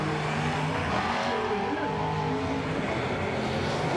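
A Cadillac drag race car at a drag racing event drives past nearby with a steady, loud engine roar and broad outdoor noise throughout, while people talk over it.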